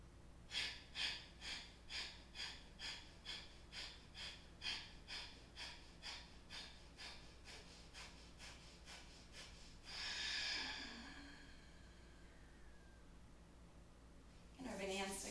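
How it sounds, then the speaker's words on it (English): Quick, rhythmic forceful breaths through the nose during a breathing exercise, about twenty close pulses, then a long deep inhale near the end, with no words spoken. "Taking a nice deep inhale in."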